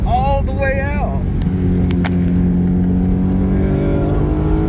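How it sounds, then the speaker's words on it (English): BMW M3 engine revving hard through the rev range while driving, a rising engine note carried under a voice talking over the top. "It really revs all the way out."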